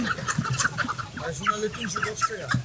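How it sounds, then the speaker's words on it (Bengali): Chickens, including sonali and local deshi birds, cluck in a busy old Dhaka fish and poultry market, their calls coming in short bursts over a dense background of crowd voices and market bustle. "এই যে চমৎকার এই যে সোনালি মুরগি দেশি মুরগি সবই পাবেন"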